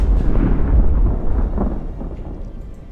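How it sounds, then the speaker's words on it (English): Naval cannon fire between sailing warships in Ultimate Admiral: Age of Sail, a deep rolling boom that rumbles and slowly fades, heavy and loud with no voices. "Now Whitby's taking fire from 4 ships at the moment"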